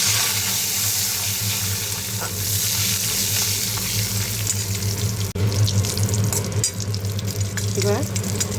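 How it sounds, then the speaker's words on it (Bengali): Dried red chillies, cumin seeds and a bay leaf spit and sizzle steadily in hot oil in a pan, a dense continuous frying hiss with a sharp clink partway through. "দিয়ে আমি শুকনো লঙ্কা দেবো এক কেটে, আর একটু জিরে দেবো ফোড়ন, আর দেবো একটু তেজপাতা"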